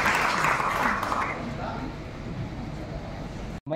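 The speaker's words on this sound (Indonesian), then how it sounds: "Berikan aplaus yang semeriah-meriahnya." Applause from an audience at a DPRD regional council handover ceremony in Garut, a dense crowd clapping that is loudest at first and then thins out before cutting off abruptly.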